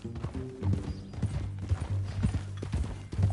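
Horse hooves clip-clop in steady rhythm in the video game Red Dead Redemption 2, close and fairly loud, with a brief neigh-like sound and a short spoken line mixed in.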